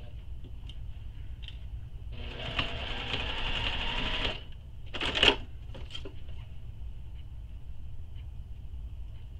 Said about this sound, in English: So I'm going to just hand crank over that needle